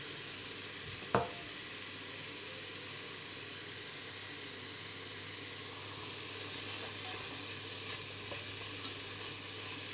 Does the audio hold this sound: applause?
no